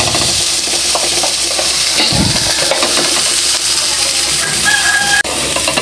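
Potato and carrot pieces frying in a pan give a loud, steady sizzle with stirring scrapes, and a rooster crows briefly in the background.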